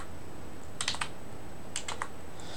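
Computer keyboard typing while testing a coded video game, two short bursts of rapid key clicks about a second apart, close and soft against steady background hiss.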